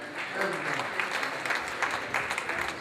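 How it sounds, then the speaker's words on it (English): Steady applause from a large audience at a gala night fills the whole stretch, dense and continuous clapping with crowd noise underneath. "Please, give him a round of applause."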